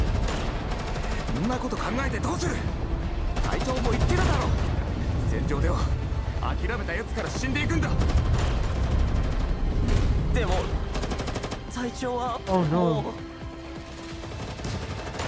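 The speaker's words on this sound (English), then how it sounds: "more gunshots and explosions resound beyond the fortress" Gunfire and explosions in the video game Girls Frontline 2: Exilium ring out beyond a fortress as dense, continuous crackling bursts and booms, with talk running over the top throughout.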